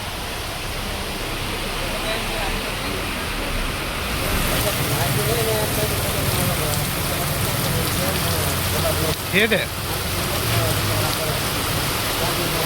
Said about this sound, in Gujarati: અહીંયા વરસાદ જો શરૂ થઈ ગયો છે